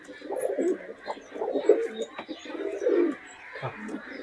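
Pure Murshidabadi pigeons with wheat-coloured beaks cooing close by in soft, repeated throaty coos, with some faint background chatter.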